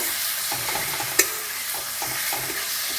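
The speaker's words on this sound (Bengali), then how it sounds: "এক চামচ কাজু বাদাম বাটা দিয়ে দেব এক মিনিট কষিয়ে নেব" Green chili and cashew paste sautéing in a pan, a steady broadband sizzle with repeated soft scraping stirs and one sharp clink of the spoon against the pan, close and alone.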